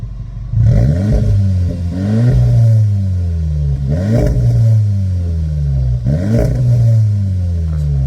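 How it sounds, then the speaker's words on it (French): An Audi S3 with 300 hp, heard from outside, revs up repeatedly: three loud, rising engine surges with a growling exhaust note, each falling back before the next, with no voices. "Et on va accélérer un petit peu."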